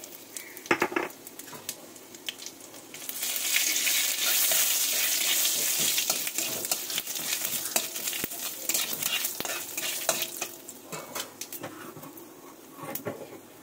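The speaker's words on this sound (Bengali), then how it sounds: "তেলের ওপর দিয়ে দেবো দুটো তেজপাতা, দুটো শুকনো লঙ্কা" Bay leaves, dried red chilies and cumin seeds sizzle in hot oil for a mung dal tempering, a bright crackling hiss that surges and then settles, punctuated by scattered clinks and scrapes of a stirring utensil against the pan.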